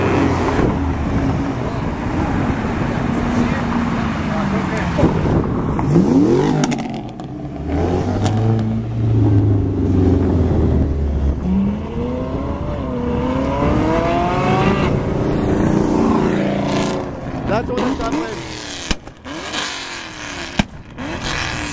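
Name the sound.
Ferrari car engine revving at a car meet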